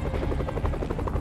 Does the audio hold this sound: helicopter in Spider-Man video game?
yes